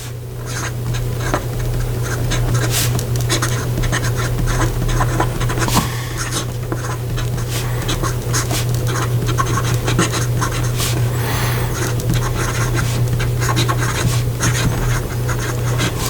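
Fountain pen fitted with a music nib scratching steadily across paper in continuous writing strokes, close and fairly loud, with a constant low hum running underneath throughout.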